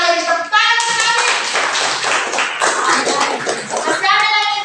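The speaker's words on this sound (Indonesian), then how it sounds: "Tepuk tangan sekali" A classroom of students claps together, a short burst of brisk, close hand clapping, with a teacher's voice before and after it.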